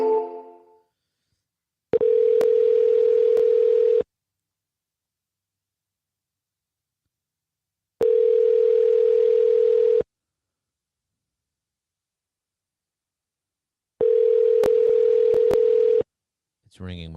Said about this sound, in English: It's ringing Michael's phone number.